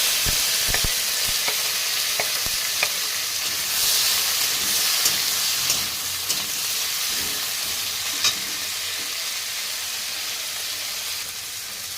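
Raw chopped tomatoes hit hot oil over fried mustard seeds, giving a steady broadband sizzle with scattered pops and stirring clicks, close and fairly loud with no talking.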